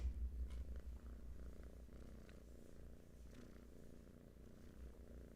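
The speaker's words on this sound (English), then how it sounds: "If you can hear the cat purring," A cat purring softly and steadily, a low rumbling drone close by with no other sounds.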